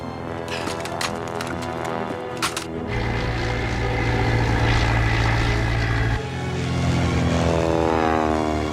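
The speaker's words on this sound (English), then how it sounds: "You can tell by the sound of the engine." A German propeller aircraft engine drones steadily overhead, swelling from about three seconds into a loud, sustained hum that holds near, then eases slightly before continuing.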